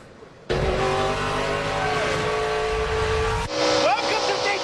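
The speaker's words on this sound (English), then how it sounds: "Welcome to Daytona Speedway in my Toyota Camry test car." A Toyota Camry test car laps Daytona Speedway in wet, between-showers conditions, its engine a loud steady drone close up with a pitch shift near the end, and a voice speaking over it.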